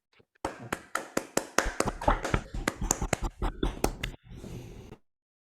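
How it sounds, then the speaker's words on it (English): A small group at a hackathon showcase gives a brief round of applause for a winning team, about a dozen crisp, distinct claps close by, slightly uneven, that quicken and then trail off into a soft rustle. "So if you can help me out with another round of applause, please"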